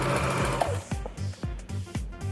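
A sewing machine stitches a button onto fabric, giving a quick run of evenly spaced mechanical thumps up close with a low motor hum between them.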